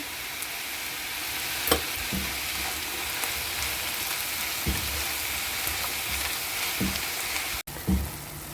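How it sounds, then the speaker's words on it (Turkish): Mushrooms sautéing in a pan, a steady close sizzle and crackle of frying with occasional utensil clinks and stirring scrapes, no voices. "kavuracağım, soteleyeceğim."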